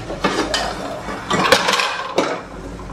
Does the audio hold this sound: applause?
no